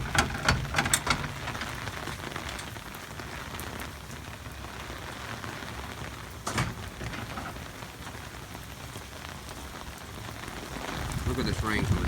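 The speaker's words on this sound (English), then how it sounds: "Look at this rain coming down." Heavy torrential rain from an El Niño storm pours down steadily, a dense hiss with a few louder splashes and gusts. A voice talks briefly near the start.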